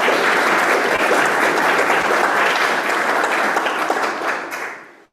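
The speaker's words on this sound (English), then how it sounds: "I guess you could hear the clapping." Audience applause at an astronomy workshop in Crete, steady close clapping from a seated crowd lasting about five seconds before tapering off quickly.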